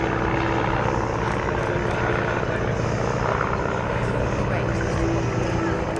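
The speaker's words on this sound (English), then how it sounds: "Here, at least it has an escort in the form of the replica Royal Aircraft Factory SE-5A." A replica WWI Royal Aircraft Factory SE-5A biplane flying at an airshow, its propeller engine giving a loud, steady droning roar throughout with a commentator's voice faintly under it.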